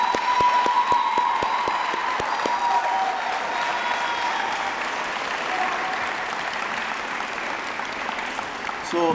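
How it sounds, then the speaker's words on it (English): A graduation audience honoring a graduating student breaks into sustained, dense applause, with a few distinct claps at the start, continuing steadily for several seconds amid light crowd noise. "So round of applause."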